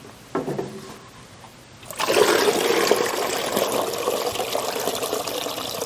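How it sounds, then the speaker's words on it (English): Water gushes out of an opened gate on an Italian ice machine, a brief splash first, then a loud steady rushing stream that keeps flowing to the end. "if I open this gate right now, it's going to be like Shamu the whale. We're just going to get all covered with water"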